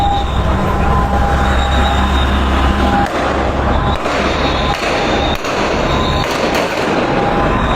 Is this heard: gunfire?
yes